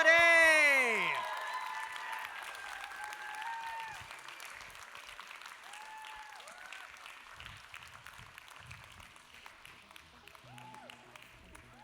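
A crowd at a cosplay championship stage applauds steadily, with a burst of cheering and whoops at the start, the clapping then thinning into a sustained patter.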